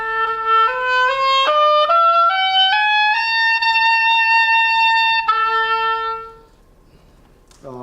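Solo oboe plays a slow rising étude phrase, stepping up note by note at mezzo forte to a sustained high A, then drops to a lower held note; clear, close and alone, with a brief voice entering at the end.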